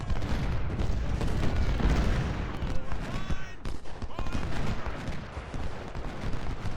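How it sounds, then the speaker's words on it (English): Cannon fire from 20-pounder artillery booms in the Ultimate General: Civil War video game, a dense run of deep shots and rumbling blasts over battle noise, continuous and moderately loud. "I need our 20-pounders to hit that artillery battery."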